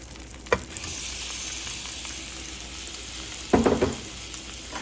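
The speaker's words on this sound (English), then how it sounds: "So now we're gonna add in our shrimp." Shrimp hit a hot pan with garlic for shrimp scampi, giving a steady close sizzle, with two louder clattering bursts as the shrimp drop in and get stirred.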